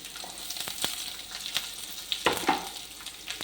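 Ginger and garlic cloves sizzle in hot oil with a close, crackling fry, punctuated by sharp pops and a few spoon clinks.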